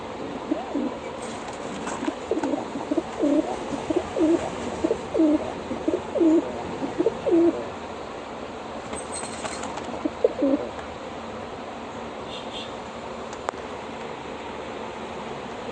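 Domestic pigeons, a pair of males, coo in rhythmic bursts near the start and again around the middle, with a few softer coos and faint wing flutters. Quiet stretches fall in between, and a low voice mutters now and then.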